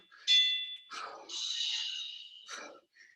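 Workout interval timer bell sounding during an exercise session: a bright ding with a ringing tone, then a couple of further chiming bursts and a faint final ping, fairly close with no talking.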